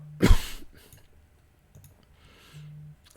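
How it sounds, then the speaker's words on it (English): A single sharp cough close to the microphone, followed by quiet rustling and faint clicks. "Excuse the cough. That's bad timing."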